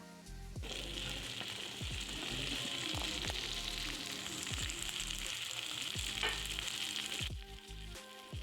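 Sliced okra with turmeric fries in a pan, a loud continuous hiss and sizzle that starts abruptly and stops near the end, broken by repeated low clinks and scrapes of stirring.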